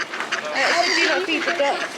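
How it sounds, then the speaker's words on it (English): A crowd of ducks quacks in Bakewell, with voices talking over them throughout. "So many ducks."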